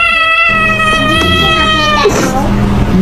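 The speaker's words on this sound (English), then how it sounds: "There's a cat." A cat lets out a long, drawn-out meow, loud and close, followed by a shorter rising call at the end, with people talking around it.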